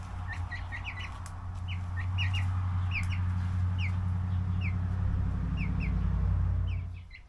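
A Barred Rock baby chick peeps in quick repeated bursts of short, high, falling notes over a steady low hum, close by and with no talking.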